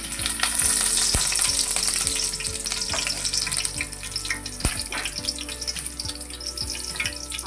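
Curry leaves crackle and sizzle in hot oil in a home kitchen, a dense steady frying hiss with sharp pops and a few clinks, close and fairly loud throughout.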